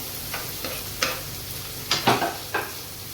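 Onion and chilli frying in hot oil give a steady sizzle, broken by a few sharper crackling bursts as the spoon scrapes and stirs them around the pan; no one speaks.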